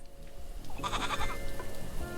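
A goat bleats in the game Little Goody Two Shoes, one short wavering call over steady stormy rain, fairly close.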